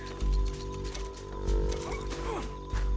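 Horses in the Western video game Red Dead Redemption 2, heard as heavy hoof thuds and snorting bursts over a low rumble, with a steady tonal hum running beneath.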